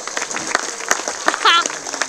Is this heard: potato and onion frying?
no